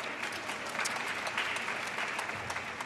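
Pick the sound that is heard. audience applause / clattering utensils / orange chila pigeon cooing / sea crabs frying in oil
audience applause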